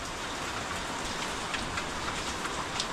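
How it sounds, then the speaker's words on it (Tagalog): Steady, dense rain falling outdoors, an even wash of patter with occasional louder drops close by, continuous and alone with no voices. "Umuulan ngayon, umuulan."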